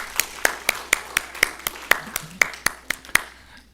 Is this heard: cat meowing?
no